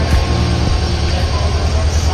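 A Coimbatore Express train stands at Mumbai's LTT station platform with a steady, loud rumble of engine and wagons and a broad noise wash throughout.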